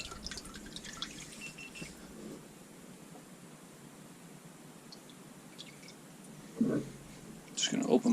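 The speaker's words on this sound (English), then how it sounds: "I just unplug my pump, let the water run off the table" Water draining off a Browns Mini Miller gold cleanup table after the pump is unplugged: a soft steady trickle and drip with gentle splashing, close by, with a few louder clattering bursts near the end.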